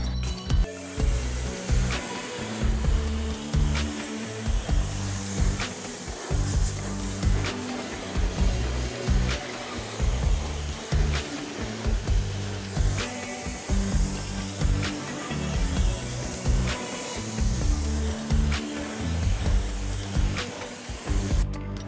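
Wheel cleaner is sprayed into a car's fender well and rinsed off with a steady hissing water spray, continuous and loud for the whole stretch with small fluctuating pulses.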